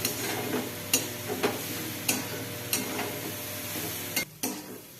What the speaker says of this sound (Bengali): মিডিয়াম আঁচে নাড়াচাড়া করে মাঝে মাঝে একটু চাপা দিতে হবে